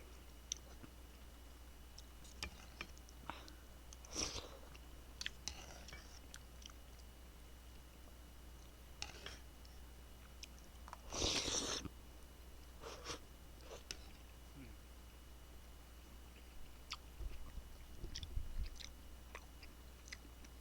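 Someone eats cold rice soaked in water topped with braised fish, close to the mic, making soft, faint chewing and occasional biting and clicking mouth sounds over a low steady hiss, with no talking.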